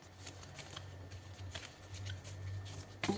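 Oracle cards being shuffled by hand during a tarot-style reading, a soft, steady riffling close up and quiet, ending with a sharper snap as a card is drawn.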